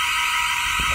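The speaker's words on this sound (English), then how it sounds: "I think the alarm in here is going off too" A loud, continuous electronic alarm blares inside an abandoned bowling alley, a steady high-pitched tone that fills the whole second, with a short low thump near the end.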